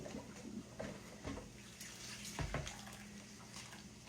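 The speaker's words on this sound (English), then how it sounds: "I'm going to put your colander in your sink. And drain them." Cooked squash being drained in a colander in a kitchen sink: a faint, steady wash of pouring water with soft splashes and a few small knocks, heard alone without talking.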